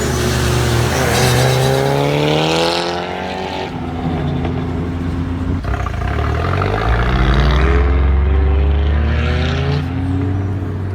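A Mitsubishi Eclipse engine runs on an engine stand, loud and close, revving up and settling in rising and falling sweeps with no talk.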